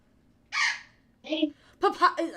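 A pet bird gives three short, harsh squawking calls close by in a quiet room, separated by brief pauses.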